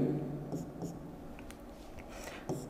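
A teacher writes trigonometry values on a board during a maths lecture, producing a string of short, scratchy strokes and taps close by, with faint murmuring in the background.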